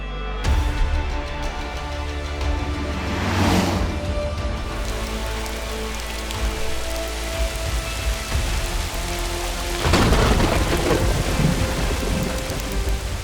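A violent thunderstorm pours heavy rain in a steady, dense hiss, with loud rolling thunder swelling around a few seconds in and again near the end; no voices.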